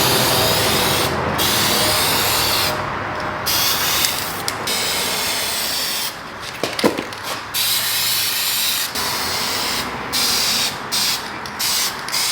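A spray gun applies a coat of paint to a Ford F250 truck in steady hissing bursts, broken by short pauses between passes, with a brief clatter in the middle.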